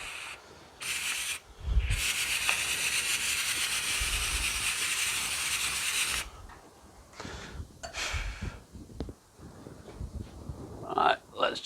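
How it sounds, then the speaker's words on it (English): Powder coat sprayed onto a part for a 1972 MG Midget restoration, a steady hissing spray burst lasting several seconds, then stopping, with shorter spray bursts before and after. "let's just get the other one powder coated quickly"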